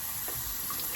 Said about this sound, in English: So I'm gonna quickly rinse.